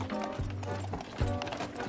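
A pregnant horse pulling a cart trots along a country road, its hooves clip-clopping in a steady rhythm with a couple of sharper strikes, close and moderately loud over faint background noise.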